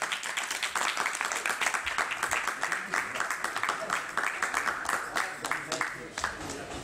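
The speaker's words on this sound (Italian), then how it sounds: "Pino Scaglione, ecco, facciamogli un applauso." A room full of people applauds, dense clapping going steadily for several seconds, fairly loud and close.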